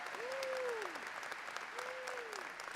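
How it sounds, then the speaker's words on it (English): Steady crowd applause fills a fall commencement ceremony hall, a continuous wash of clapping with two long rising-and-falling tones sounding over it, likely from a sound system. "Let's give Charlotte a round of applause."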